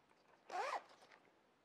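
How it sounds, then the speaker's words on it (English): Open-ended fabric zipper on sewn gear being pulled closed in one quick, close zip lasting a fraction of a second, standing out against a quiet room. "you can just use the open-ended zipper pull"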